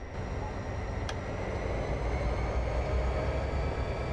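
A Norfolk Southern SD70M-2 freight train in Train Simulator 2015 on Stevens Pass gives a continuous rolling rumble with a faint steady whine and one brief sharp click, moderately quiet, with no speech.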